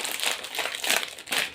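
Plastic biscuit wrappers crinkle and rustle close up in three quick bursts of bright crackling as a bag is pulled open, with no voice over it.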